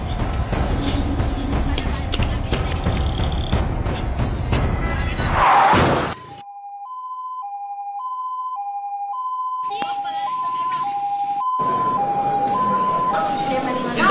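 A loud ambulance siren wails, cut short by a crash-like burst, then quieter tonal siren beeps and electronic tones continue at a distance, during a school stage performance.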